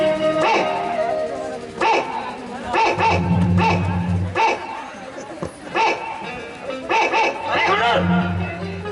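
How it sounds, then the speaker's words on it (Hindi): Dog barks and yips come in short bursts amid lively talk in a comedy sketch set in a Chhattisgarh village, loud and close. "कुत्ता"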